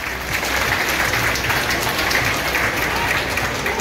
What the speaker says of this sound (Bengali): একটু জোরে হাততালি হয়ে যাক।